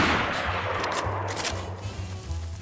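Gunshots fired at a bear in DayZ, a short, dense burst of rapid shots over a low droning background, fairly quiet and close.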